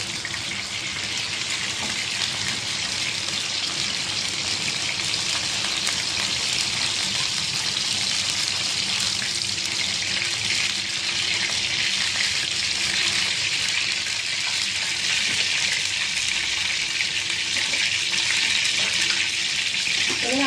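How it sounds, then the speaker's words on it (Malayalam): Red chillies fry in hot oil in a pan while brinjal chutney is made, giving a steady, unbroken sizzle and hiss that fills the whole stretch at an even, fairly loud level. "നമുക്ക് ഇതിൻ്റെ കൂട്ടത്തിൽ ഈ ചുമന്ന മുളക് ഇട്ട് വറുത്തെടുക്കാം"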